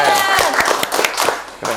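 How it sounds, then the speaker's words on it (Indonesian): A small group claps for guests on a church youth podcast, several separate sharp claps scattered under ongoing talk and cheerful voices, fairly close and loud. "Tepuk tangan dulu dong, teman-teman."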